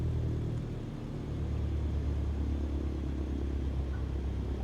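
A Cessna 152 engine idles in Microsoft Flight Simulator 2020 during the landing flare, giving a steady low rumbling drone close by and heard alone.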